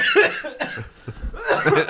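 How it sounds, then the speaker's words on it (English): Several harsh coughs burst out close by, with a short pause between fits and a chuckle-like breath mixed in. "coughed all over your forearms."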